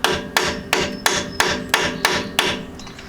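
Metal hammer strikes on a socket fitted to a worn, rusted spline on the front end of a Jeep XJ, eight evenly spaced ringing blows about a third of a second apart, close and loud.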